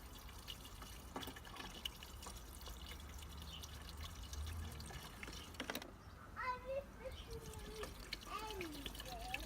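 Screen wash fluid, mixed at a 1:2 dilution, is poured and spills everywhere, giving liquid splashing and dripping over steady background noise, with voices heard faintly at times.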